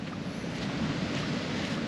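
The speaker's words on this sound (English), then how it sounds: "Sounds like there's a fair few waves crashing down here." Continuous roar of ocean surf crashing near sea caves on Tasmania's east coast, with wind noise, a steady broadband wash close by, no distinct separate wave breaks.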